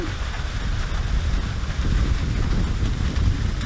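Steady rain hisses down with a rough, wind-buffeted rumble, continuous and fairly loud throughout.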